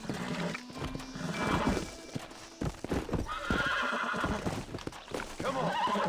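A horse in the video game Red Dead Redemption whinnies loudly, mixed with hoof clip-clops and scuffling as the animal is calmed and broken in, the sound rising and falling in bursts.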